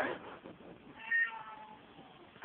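A cat meows in drawn-out, whining cries while watching another cat on a screen, the calls close and fairly loud, with one sharper peak near the middle.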